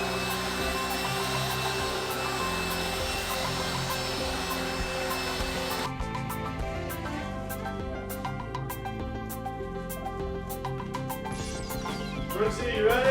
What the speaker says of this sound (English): It's a handheld. It's a dust buster on steroids.